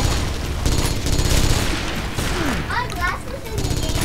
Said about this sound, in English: I'm firing at the ogres